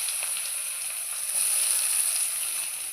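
Bay leaf and chopped onion hit hot oil and sizzle steadily, a close, continuous frying hiss that keeps an even loudness throughout, with no talking.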